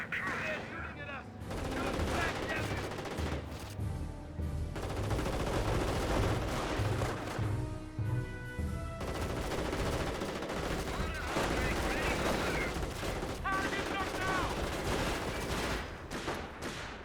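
Tank cannon fire and rifle and machine-gun bursts from a Company of Heroes battle between a Panther and US anti-tank guns, dense and continuous with repeated shots layered under game noise and a commentator's voice.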